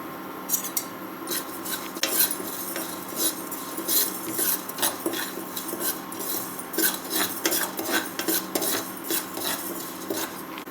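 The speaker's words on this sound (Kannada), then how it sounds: "ಉದ್ದಿನಬೇಳೆ ಸ್ವಲ್ಪ ಹುರಿದಾದ್ಮೇಲೆ ಅದ್ರ ಜೊತೆನೇ ಎಳ್ಳನ್ನು ಹಾಕಿ ಹುರಿಯೋಣ." Urad dal and sesame seeds dry-roasting in a pan for fresh ginger gojju, stirred with a metal spoon that scrapes and clinks steadily against the pan, with a faint sizzle underneath and no talking.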